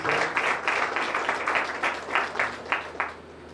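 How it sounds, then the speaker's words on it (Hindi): Congregation applauding at an evening praise and worship service, a dense, continuous run of clapping with rhythmic swells, moderately distant and fairly quiet. "अब जोरदार तालियों से प्रभु को धन्यवाद देते हैं"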